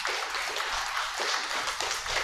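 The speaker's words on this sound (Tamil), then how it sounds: "சத்தமாக கைத்தட்டி கல்லூர் மக்களை பாராட்டுங்க பார்ப்போம்" A crowd claps loudly and steadily at a church festival for the blessing of a new flagpole, a dense, continuous patter of many hands with no speech over it.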